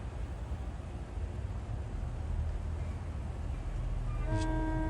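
A three-car commuter train rumbles past on the ex-Erie Main Line in northern Bergen County, New Jersey, a steady low roar building, with a short horn blast near the end.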